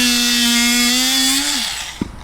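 An oscillating multi-tool cuts through the mounting of an RV ceiling vent fan, giving a loud, steady buzzing whine that holds for about a second and a half, then winds down, with a brief knock at the end.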